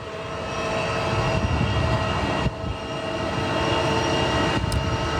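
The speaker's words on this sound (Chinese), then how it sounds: "架飞机是一架我们的空客的 A320啊" A China Southern Airbus A320 arriving from Luzhou, Sichuan, lands at an airport with a loud, steady jet roar that briefly dips midway and then swells again. No voices are heard.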